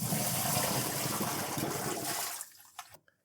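Used brine being poured out of a container from a garbage-bin trout smoker, a continuous splashing gush for over two seconds that cuts off, followed by a few drips, near and moderately loud.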